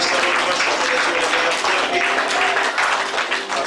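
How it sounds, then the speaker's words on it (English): A church congregation claps during an evening worship service, a steady mass of applause lasting throughout with voices and cheering mixed in, fairly loud and close. "Let's give a clap offering to Jesus tonight"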